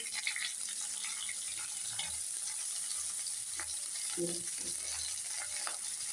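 Carrots and tomatoes frying in a pan, a soft steady sizzle with occasional stirring scrapes and light knocks, fairly quiet overall.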